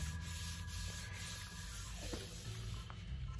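Paint is rubbed along a craft surface by hand in a steady, close scraping rasp that continues for a few seconds without pause.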